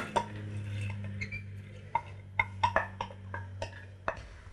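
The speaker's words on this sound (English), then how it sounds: "we just stir it constantly so that, evenly the heat will get into it" Lentils stirred in salted boiling water in a pot, with scattered metallic clinks and scrapes of the spoon against the pot over a low steady hum, close and fairly quiet.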